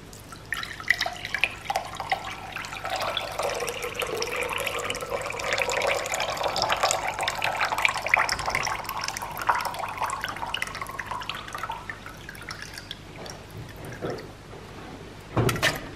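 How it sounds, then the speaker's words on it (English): Pork and broth poured through a strainer, a steady splashing stream of liquid running for most of the stretch, close and fairly loud, with no talking. "Strain our pork and broth."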